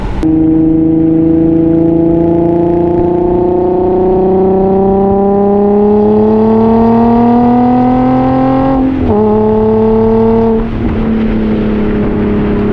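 A 2008 Infiniti G35S manual sedan engine revs steadily upward in pitch, drops briefly, then climbs and settles again, loud and close with a continuous throaty drone.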